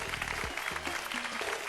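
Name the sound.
audience applause for contestants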